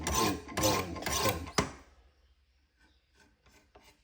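A Chicago Cutlery Santoku knife is drawn across the stones of a Wicked Edge sharpener in three or four close, gritty rasping strokes, which stop and are followed by faint scraping and light handling noises.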